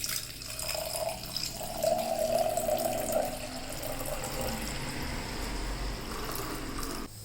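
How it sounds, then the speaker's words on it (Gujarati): Black grape juice pours steadily into a pot, a continuous liquid splash and gurgle lasting several seconds at close range, with no talk over it. "નાખી લઈએ કરસિયામાં આપણું જ્યુસ છે એ"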